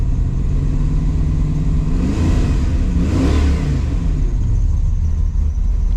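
A freshly reassembled modified car engine runs close by while warming up cold, settling from a steady rumble into a single smooth rev that swells and drops back to a loud idle.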